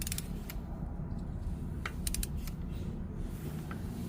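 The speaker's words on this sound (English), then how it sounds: "While we're torquing it, we're gonna spin the rotor." On a Ford E-series van with a 6.8 engine, a torque wrench tightens a replacement hub to 20 foot-pounds as the rotor is spun, giving sharp intermittent metallic clicks and ratcheting ticks over a low steady rumble.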